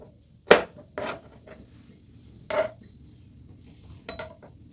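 Green chilies chopped finely with a blade on a board, a few sharp separate cuts with quiet gaps between them, close and with no talk.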